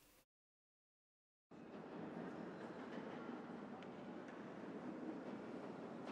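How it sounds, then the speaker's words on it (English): A brief blip, then silence, gives way to a steady, continuous rumble of London train station ambience with a broad, hollow wash of distant activity. "I've started with that London Atmosphere train station sound"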